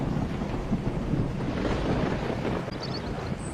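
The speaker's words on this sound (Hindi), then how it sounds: "अभी वो थोड़ा ही दूर गया था कि बारिश तेजी से शुरू हो चुकी थी।" Heavy rain pours down with low rumbling like distant thunder and gusty wind, a dense continuous roar throughout.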